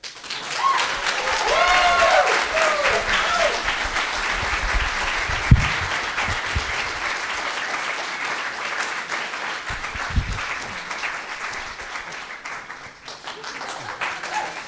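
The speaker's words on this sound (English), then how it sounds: "You may now applaud." A conference audience applauds steadily for several seconds, a dense wash of clapping that holds its level and tapers slightly near the end, with a few scattered voices.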